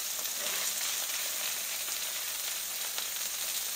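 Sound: cubed sausage and peppers sizzling on a griddle

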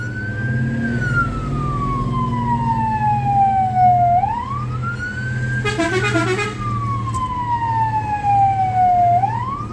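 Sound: fire engine siren

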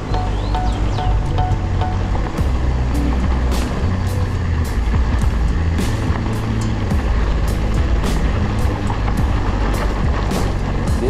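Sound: motor vehicle passing on the road

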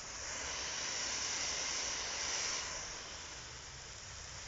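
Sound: spraying water onto a masonry wall

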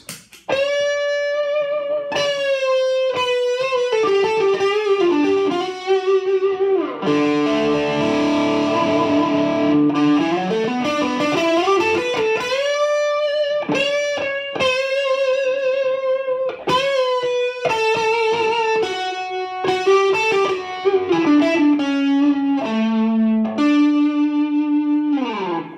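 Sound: electric guitar through Peavey Ultra 120 amp crunch channel

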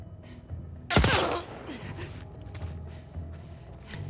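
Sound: gunshots in the video game The Last of Us Part II

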